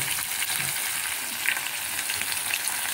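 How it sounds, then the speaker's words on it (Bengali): Katla fish pieces frying in hot oil for a Bengali doi katla, a steady dense sizzle that stays loud and even throughout, with faint scraping from turning the fish. "আগে মাছগুলো একটু ভালো করে ভেজে নেব"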